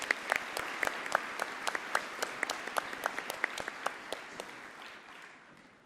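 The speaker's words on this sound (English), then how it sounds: "I would like to acknowledge our graduating seniors who are in band and chorus, so a big round of applause." A high school graduation crowd applauds seniors from the band and chorus, dense clapping with distinct sharp individual claps standing out and gradually fading at the end.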